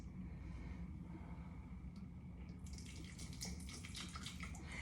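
A small amount of water trickles into a Thermomix bowl with dark brown sugar for golden syrup, a soft steady pour at low level.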